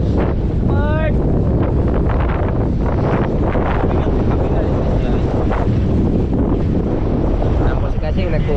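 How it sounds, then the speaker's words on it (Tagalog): Strong wind roars across open sea from a boat during the Amihan monsoon season. It is a constant, loud, broadband rush with buffeting against the microphone and faint voices mixed in. "Mas lumalang po ang alon. Mas lumalakas ang hangin."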